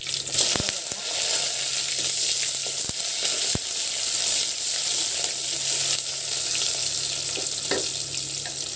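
Urad dal, mustard seeds, cumin, fenugreek and dried red chillies sizzle steadily in hot oil for sambar tempering, a loud continuous crackle with a few sharp pops and clicks, with no talking.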